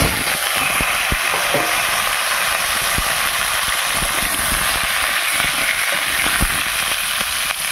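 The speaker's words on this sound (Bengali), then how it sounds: "এবার আলুগুলো ভেজে নেব" Potato pieces fry in hot oil in a wok over a wood-fired clay stove, giving a steady, loud, close sizzling hiss dotted with sharp crackles and pops throughout, with no talking.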